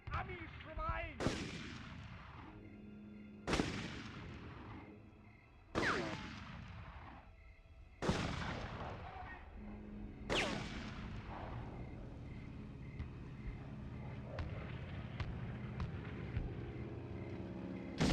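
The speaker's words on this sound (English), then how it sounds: "Maybe I thought the shots came from up there." Loud gunshots and artillery blasts from a video game, several heavy booming impacts spaced a couple of seconds apart with long rumbling decays, then a sustained noisy din of battle and faint distant firing.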